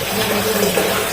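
Tap water rushes steadily while a cooking pot is washed in a sink, giving a loud, close, continuous splashing for a brief moment.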